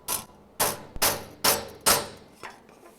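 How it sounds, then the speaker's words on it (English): A hammer taps sheet metal held against a dolly, giving about six sharp ringing metallic strikes in an uneven rhythm, close and fairly loud, each with a brief decaying ring. "we'd be holding our dolly behind here like this. And be hammering on dolly just a few times"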